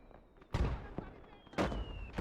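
Light mortar rounds in the WWII strategy game Gates of Hell: Ostfront, two distinct heavy thumps about a second apart, each with a short booming tail, over low battlefield ambience.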